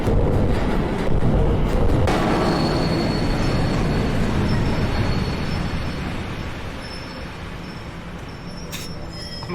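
A loud subway train in a video game rushes past close by, a dense sustained roar of rumbling wheels and rail noise with a thin squealing tone above it, steady throughout and easing slightly toward the end.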